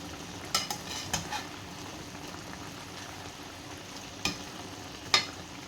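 A utensil stirs chicken pochero, a Filipino stew, in a simmering pot, giving a few scattered scrapes and clinks over a steady bubbling hiss.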